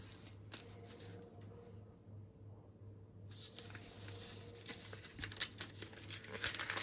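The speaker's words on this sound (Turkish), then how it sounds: "Şimdi açalım bakalım paketimizi" A Nestle Damak chocolate-pistachio baklava package wrapper crinkles and crackles as it is opened, with sparse rustles at first building into louder, denser bursts of crackling toward the end.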